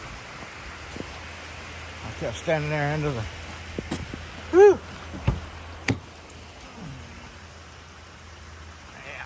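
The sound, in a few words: rain falling outside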